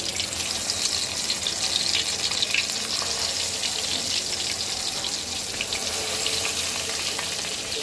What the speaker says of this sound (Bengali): এখন আমি মাছটাকে ভেজে নেব।